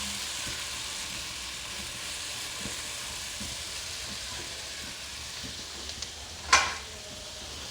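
Okra cooking in a pan over high heat with lemon juice added: a steady soft sizzle and hiss of frying throughout, with a couple of faint clinks and one brief sharp metallic scrape near the end.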